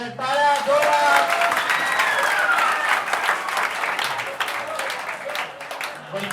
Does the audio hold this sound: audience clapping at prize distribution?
yes